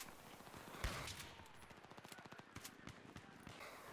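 Rapid automatic gunfire in Battlefield 4, a sustained burst of closely spaced shots with a heavier blast near the start, loud and close with no talking.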